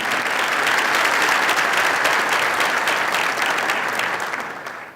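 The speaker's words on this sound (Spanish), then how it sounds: "Un aplauso, por favor." An audience at a formal event in Guayaquil applauds with steady, dense clapping that holds level for several seconds before beginning to fade.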